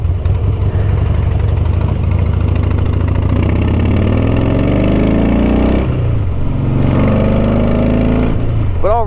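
Harley-Davidson trike fitted with a Tilting Motor Works front end, its V-twin engine rumbling close by and rising and falling through throttle changes while riding, loud and continuous with wind noise.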